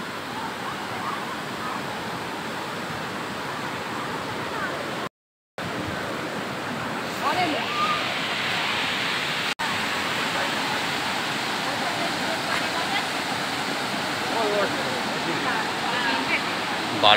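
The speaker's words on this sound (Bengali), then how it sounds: "এই যে হানাতে কি বিভৎস পরিমাণে জল যাচ্ছে।" Floodwater rushes through a breach in the embankment in the Udaynarayanpur flood area, a loud, continuous roar of churning water with a brief dropout partway through. Someone speaks over it.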